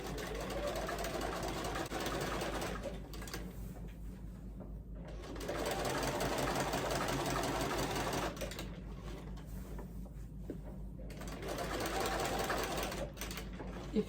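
Quilting on a sewing machine runs in long steady bursts with brief pauses between them, a close, continuous mechanical whir and needle chatter.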